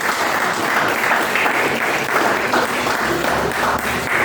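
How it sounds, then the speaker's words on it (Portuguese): A church congregation claps continuously, a dense and steady roar of many hands that stays loud and close throughout. "Dê uma salva de palmas"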